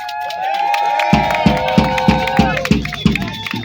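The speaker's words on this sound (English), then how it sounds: "Give her a round of applause again" Crowd at a shareholders' protest rally outside 320 Greenwich St claps in a quick, even rhythm with cheers after a speech; a voice talks briefly before the loud, regular clapping takes over.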